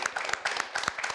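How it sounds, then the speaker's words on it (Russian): A studio audience at a talk program claps, a short burst of fairly close, distinct handclaps with an uneven, scattered rhythm. "Спасибо, аплодисменты."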